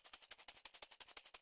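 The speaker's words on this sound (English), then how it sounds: "you can hear that it's, I mean, it's a shaker" Shaker loop from a liquid drum and bass track, quiet and alone, with steady rapid sixteenth-note shakes in a bright, hissy, even rhythm.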